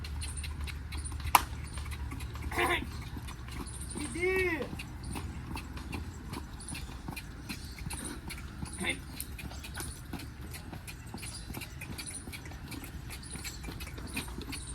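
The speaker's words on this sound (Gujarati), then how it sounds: "એટલે ઘોડી" A mare on a farm makes quiet clip-clop and shuffling sounds, with one brief whinny-like cry, heard amid constant outdoor background noise and occasional sharp knocks.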